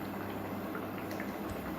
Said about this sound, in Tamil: இப்போ எனக்கு ஒரு கொதி வந்துடுச்சு.